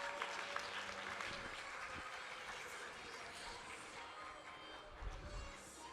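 A conference audience applauds to welcome a speaker, sustained, even clapping from a crowd filling the room, steady throughout with a brief louder swell near the end.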